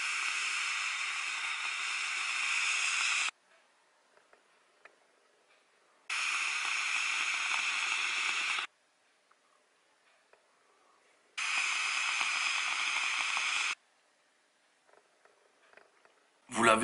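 Vaping on a WASP Nano RDTA atomizer with a 0.5 ohm coil at 40 watts, direct-lung: three long, loud airy hisses of about three seconds each, separated by quiet pauses, with no talk.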